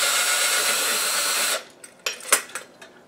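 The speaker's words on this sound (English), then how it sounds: "take your drill and unscrew the switch cap." A power drill whines steadily at close range unscrewing a ceiling fan's switch cap, stops, then a few light metallic clicks and taps follow.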